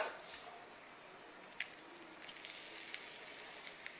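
Hookah coals resting on a funnel bowl give a quiet, steady sizzle, with faint crackles and small pops scattered through it and no voices.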